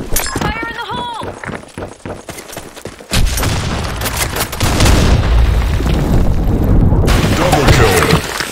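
Grenade blast and bursts of gunfire in a first-person shooter game, a loud boom followed by sustained rapid firing and heavy rumbling, with voices and game announcer calls heard over the action.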